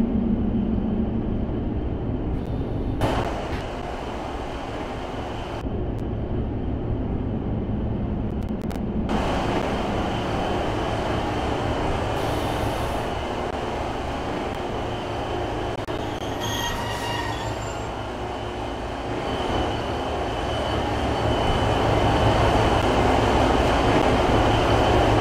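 A two-coach British Class 156 diesel train runs on a simulated railway with a steady, continuous rumble of wheels on track and occasional squealing from the wheels, heard alone throughout.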